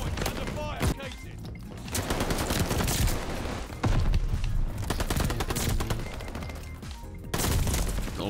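Dense gunfire rattles at a hardpoint in Call of Duty: Vanguard, with sustained automatic bursts and booming shots layered over game voice callouts throughout.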